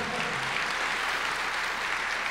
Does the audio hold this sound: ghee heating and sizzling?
no